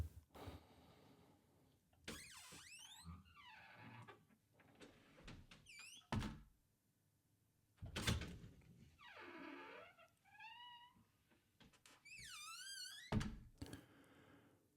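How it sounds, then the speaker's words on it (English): Heavy oak church doors creak open, giving several drawn-out, rising and falling groans broken by dull wooden thuds, close and fairly loud in an otherwise quiet space. "the heavy oak doors creaking as they swing open"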